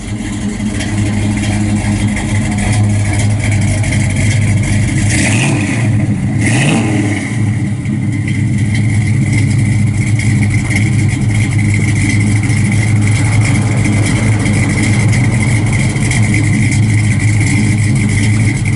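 A 1973 Chevrolet Camaro RS Z28 heard at the exhaust out back: a loud, steady V8 idle with a couple of quick throttle blips around the middle, then settling back to a deep, even burble.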